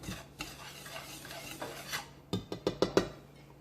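Dry ingredients for gluten-free sweet corn bread, including cornmeal, being whisked in a bowl, a soft quiet brushing swirl that ends in a few sharper taps against the bowl's rim.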